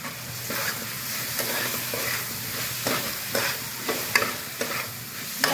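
A spoon stirs fried chilies and meat masala through hot oil, giving a steady close sizzle broken by repeated scraping strokes that grow sharper toward the end.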